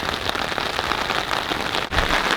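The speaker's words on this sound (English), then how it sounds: "as you can hear, it's pissing out right now." Heavy rain pours steadily onto an awning over a campsite at night, a loud, dense and continuous patter close overhead with only a brief dip near the end.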